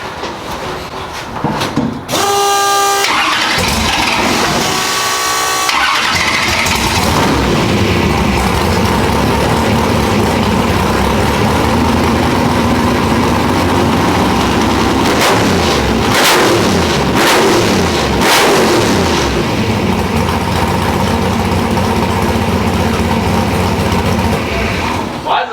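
A drag car's engine revs hard on a new NX nitrous plate system, loud and continuous throughout with brief mechanical clunks early on and sharp bursts midway.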